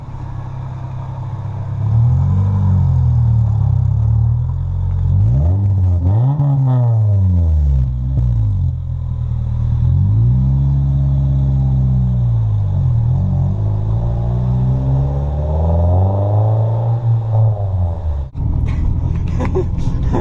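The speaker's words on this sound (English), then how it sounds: "we just took the silencer off, the muffler here, and we're about to run it now and see how loud it's gonna be" A car engine running with its silencer and muffler removed rumbles loudly and close, revving up and down in repeated swells over a deep idle, with a person talking at times.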